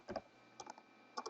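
Java servlet code typed on a computer keyboard: three quiet pairs of close keystrokes spaced across a brief moment, no speech.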